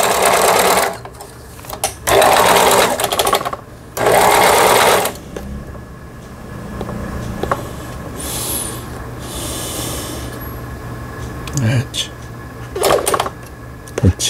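A Riccar 3800 household sewing machine runs a three-step zigzag stitch in three close, loud bursts of rapid mechanical chatter, then quieter handling clicks and a brief later run, with someone talking between.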